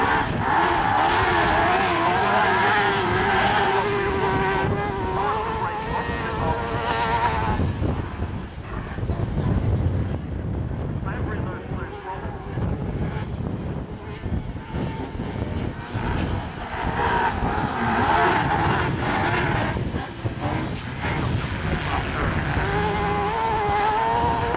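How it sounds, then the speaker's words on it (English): Small autograss buggies roar off the line and race around a dirt track, loud revving engines rising and falling with skids, close by, while a voice talks over parts of it. "now there's the 3 vehicles, 3 little buggies, look how fast they are, absolutely wrapping off the line"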